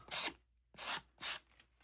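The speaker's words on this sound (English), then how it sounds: "sorry about that sanding noise." Three brief rasping strokes of sanding, each about half a second, scraping back and forth at close range with short pauses between.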